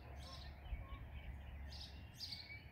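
Birds chirp and sing outdoors, a few short bright calls spread through a quiet open scene.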